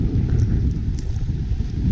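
Niagara Falls roars in a dense, continuous low rush close by, with spray pattering like heavy rain on the tour boat near the base of the falls.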